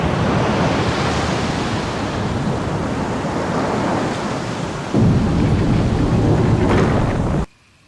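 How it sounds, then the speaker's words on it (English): Water drains in a rushing, roaring wash during a Resident Evil (2002) game cutscene, loud and continuous for about seven seconds, surging briefly louder near the end before cutting off abruptly. "And we get another real crusty FMV of draining the water."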